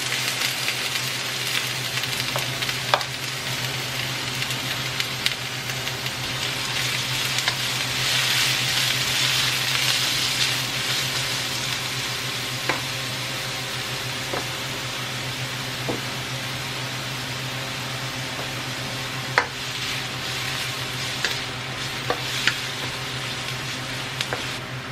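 Onion, minced ginger and garlic fry in a hot pan with a steady, even sizzle and occasional faint utensil taps, close and continuous for the whole stretch with no talking.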